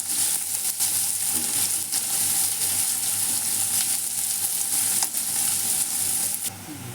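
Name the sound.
onion being stirred and frying in a pan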